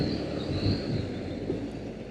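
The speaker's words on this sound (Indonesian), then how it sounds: "Ini kereta api." Steady low rumble and rattle of a moving train, constant and fairly loud with no voices.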